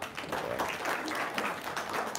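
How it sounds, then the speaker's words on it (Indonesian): Applause from a gathered audience at an Indonesian event, a steady dense patter of many hands filling the whole moment at moderate distance. "tepuk tangan dong"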